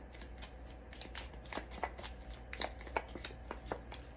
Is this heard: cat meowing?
no